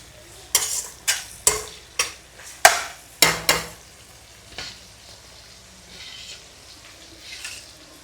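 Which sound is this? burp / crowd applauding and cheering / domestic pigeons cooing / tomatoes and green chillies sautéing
tomatoes and green chillies sautéing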